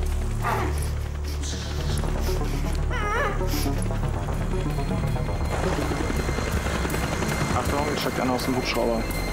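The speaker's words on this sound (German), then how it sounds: "Sieht so aus, als ob da einer einen Hubschrauber entführt hat." Helicopter rotor thrums steadily under tense dialogue and action sounds during a hostage scene in a police drama, a loud continuous chopping drone throughout with voices talking over it.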